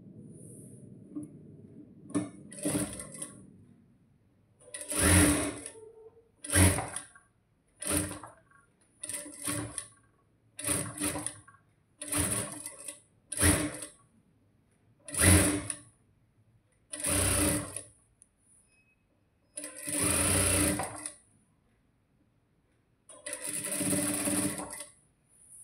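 A sewing machine stitches piping onto a blouse neckline in about a dozen short, loud mechanical bursts separated by brief pauses, with no voices.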